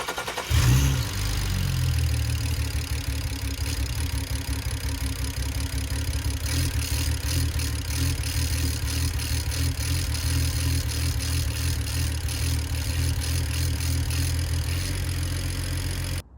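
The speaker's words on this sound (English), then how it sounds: "So everything here looks dry, so I'm gonna start up the car." A BMW N54 engine, just fitted with new injectors, cranks and catches with a brief revving flare, then settles into a steady, close idle that holds to the end.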